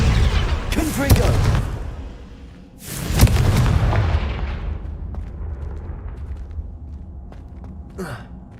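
Two loud Confringo fire blast spells in Hogwarts Legacy burst with a heavy boom and a crackling, fading roar, then the scene settles into quieter ambience with a small late hit.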